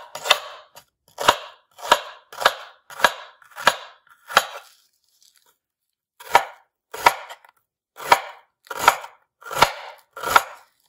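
A knife finely chopping an onion on a board for spaghetti sauce: sharp, close, regular chops in two quick runs separated by a short pause, with no talking.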